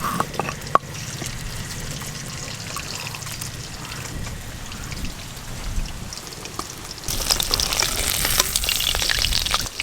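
Rohu fish belly pieces frying in hot oil, a steady crackling sizzle with scattered pops that grows louder and brighter toward the end.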